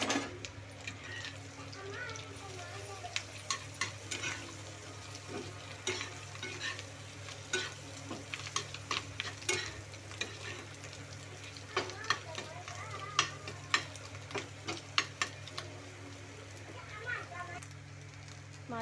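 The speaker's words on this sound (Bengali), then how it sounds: "মাছের ডিম ভাজাটা হয়েই এসছে" Fish roe mixed with onion and spices fries in fish oil on a flat griddle pan, a soft low sizzle with frequent quick scraping and tapping of a spatula over a steady background hum.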